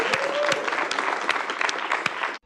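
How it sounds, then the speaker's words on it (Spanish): A studio audience applauds, a short burst of brisk overlapping claps at moderate volume that cuts off abruptly at the end. "Aplausos."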